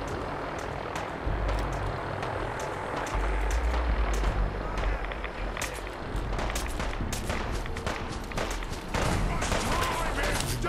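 Gunfire crackling in Fallout 4 as gunners battle super mutants, bursts of shots going off irregularly at a moderate distance over a low rumbling background with some engine-like droning.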